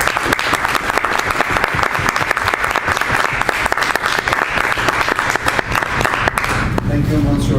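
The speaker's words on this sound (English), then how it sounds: "warm round of applause for Jilber" Toastmasters club audience gives a new member a warm round of applause, loud dense clapping sustained for several seconds before tapering off near the end.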